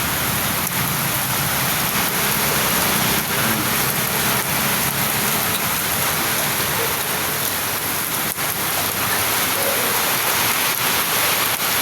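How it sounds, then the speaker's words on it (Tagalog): Heavy rain pours down steadily, a loud, dense hiss of water hitting surfaces with no break, close and continuous. "ang lakas kasi ng ulan eh"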